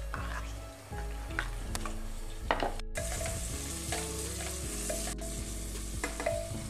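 Tomatoes tossed into a frying pan for matar bhaat, crackling and sizzling loudly up close, with repeated spoon stirs and clatters against the pan throughout.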